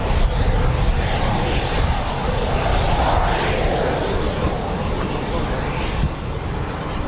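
A pair of RAF Eurofighter Typhoon FGR4 jets come in to land at RAF Coningsby, a loud continuous roar with broad rumble that holds steady, close and powerful.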